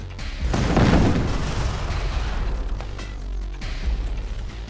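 Explosions from the real-time strategy game Command & Conquer GDI mission Rescue Tratos, a loud booming burst that swells early then rumbles on with scattered crashes and pops through the rest of the stretch.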